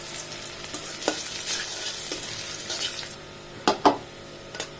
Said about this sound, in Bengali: বিসমিল্লাহ দিয়ে দিলাম রসুন কুচি।